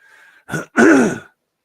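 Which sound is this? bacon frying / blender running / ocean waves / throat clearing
throat clearing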